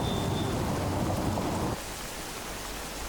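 Steady rain in Ahmedabad, a dense wash of noise that drops in volume partway through and continues more softly with no voices.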